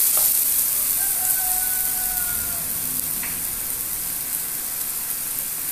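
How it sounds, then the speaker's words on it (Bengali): Potato pieces frying in oil for a Bengali ash gourd ghonto, a loud continuous sizzle with a few faint clinks of a spatula, no talking. "আলুর পিসগুলো ভালো করে লাল লাল করে ভেজে নেব"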